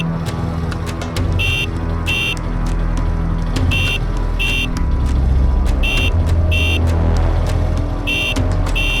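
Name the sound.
motorbike horn honking repeatedly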